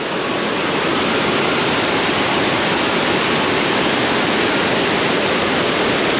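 The Jamjir waterfall on a river in the Gir forest near Kodinar, known as the 'waterfall of death', gives a loud, dense, unbroken roar of falling water, close and constant with no voices.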